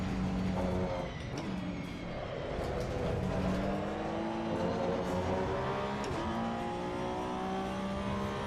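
Race cars in Assetto Corsa EVO rev and shift on track as another car draws alongside on the inside, loud continuous engine whine with rising and falling pitch and no talking.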